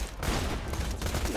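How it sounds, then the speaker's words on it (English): Shotgun fire in Borderlands 2, a dense burst of loud booming blasts packed into a second and a half, close and harsh with no pauses. "Let me take out my shotgun again, because this shotgun is pretty beast."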